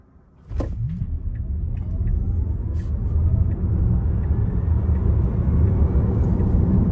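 A Tesla Model Y Launch Series accelerates hard from a standstill, with a sudden rise into a loud, sustained roar of road and wind rumble that keeps building over several seconds.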